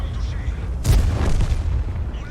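A single heavy artillery shell blast from World of Tanks bursts out about a second in, a loud low boom that rumbles and fades.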